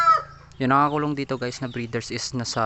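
Rhode Island Red breeder hens clucking and crowing in a pen, loud and close, with someone talking over the birds throughout.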